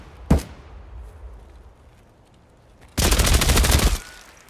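Gunfire in the video game Escape From Tarkov: one sharp shot, then after a quiet gap a loud, rapid burst of automatic fire lasting about a second, close and with no talk over it.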